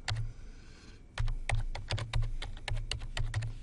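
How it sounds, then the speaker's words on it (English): Keys clatter on a computer keyboard in quick, irregular bursts of close, crisp clicks, with a brief pause near the start before the typing resumes steadily. "I have a hard time talking and typing at the same time."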